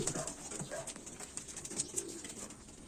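A returning racing pigeon coos softly in a loft, low murmuring calls repeating over a faint background hiss, with a few quiet scuffles.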